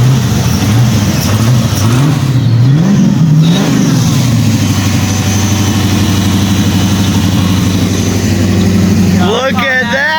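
A Corvette engine catches on the starter and revs, rising and falling growls early on that settle into a steady idle, close and loud, with people talking over it.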